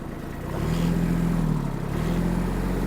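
The engine of a Japanese Kubota A-195 mini tractor hums steadily, then its revs climb and hold at a higher, rougher drone, close by and fairly loud.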